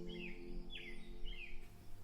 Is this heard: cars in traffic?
no